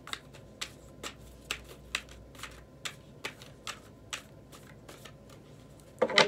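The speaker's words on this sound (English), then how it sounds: "I'm going to pull a couple animal cards really quick." Oracle cards with animal designs being shuffled and drawn by hand, a steady run of soft, crisp flicks and snaps close up, ending in a brief louder riffle, with no talking.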